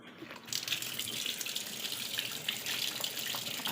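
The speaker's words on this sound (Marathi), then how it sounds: "आता मी पाणी चालू करते." A tap is turned on and water gushes steadily into a sink or bucket, a loud continuous splashing rush that starts after a short quiet moment and keeps going without pause.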